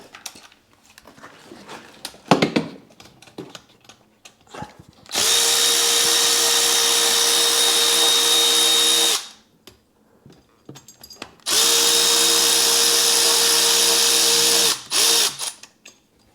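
A power drill backs screws out of a Ski-Doo snowmobile in two long, loud, steady runs of several seconds each, separated by quiet handling clatter and small knocks, with a brief final burst at the end.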